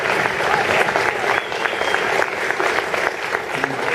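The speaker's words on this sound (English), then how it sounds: "A big round of applause for Colin, everybody" Applause from a crowd at a radio station listener appreciation night with a band, steady clapping and cheering that carries on throughout.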